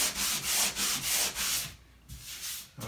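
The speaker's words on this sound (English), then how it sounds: "I'll probably use that little hand sander there" Small hand sander rubbed over spackle on a drywall patch, producing rhythmic scraping strokes about every third of a second, close and moderately loud, pausing briefly near the end, with no talk.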